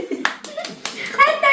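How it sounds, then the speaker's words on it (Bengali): Hand clapping at a child's birthday celebration with cake, a few quick claps in short bursts mixed with excited voices and children talking close by. "হাততালি।"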